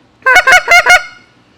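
A hunter blows a handheld goose call imitating Canada geese, four loud, close, quick honks in a row, then silence.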